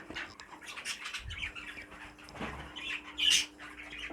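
A poultry hen in a show cage lets out one sharp, loud squawk close by, amid soft rustling and shuffling in an otherwise quiet room.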